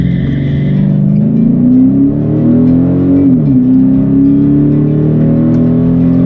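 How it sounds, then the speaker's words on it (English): A car accelerating hard from a drag racing launch, a loud engine drone that climbs steadily in pitch, dips briefly at a gear change and then keeps rising, heard close and without talk. "she drove up to take the light in Heather's car"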